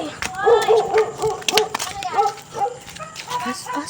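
Dogs bark and yip repeatedly in short bursts, fairly close, mixed with people talking over them.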